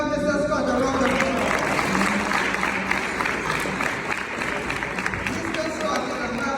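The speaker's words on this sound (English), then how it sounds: "Could you all give Mr. Scott a round of applause?" Applause from an audience at a company customer appreciation day, a dense steady patter of many hands clapping at close range, with some voices mixed in.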